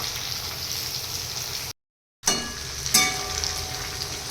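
Okra frying in a pan of oil gives a steady, close sizzle that cuts out briefly to silence, then resumes with a few crackles and a light clatter of stirring.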